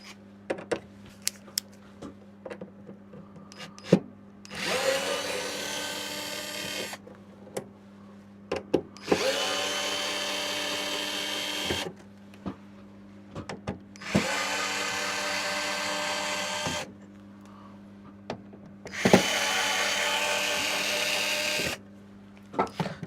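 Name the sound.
power screwdriver driving screws during electronics repair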